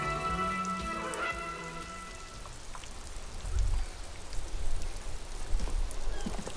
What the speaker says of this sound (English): Rain falls on the great city of Revishal. Rain drips from the eaves and floods the gutters, washing the filth away.